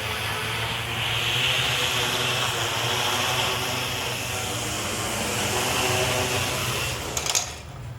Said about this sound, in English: with the upgraded propellers and motors, we can see the difference. And this time, the drone is able to take off smoothly